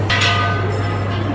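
A large gong at a Thai Buddhist temple rings with a sustained metallic hum after a strike, steady and fairly loud, with no voices present.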